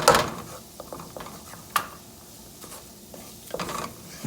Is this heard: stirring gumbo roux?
yes